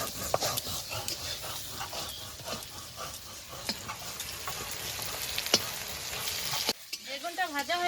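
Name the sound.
eggplant frying and being stirred in oil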